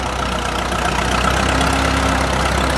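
An antique farm tractor at an outdoor farm show runs steadily close by, its engine a dense, even, continuous rumble with no talk over it.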